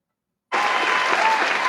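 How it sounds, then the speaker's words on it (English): A canned applause sound effect starts abruptly after a short silence on a radio show, a dense, even wash of clapping that continues steadily to the end. "Let me get the applause going for you."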